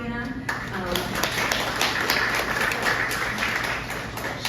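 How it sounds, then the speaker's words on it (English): Audience applause at a catering event serving plant-based food, a steady wash of many hands clapping at moderate distance after a brief spoken voice at the start. "Please give a round of applause to Tanya."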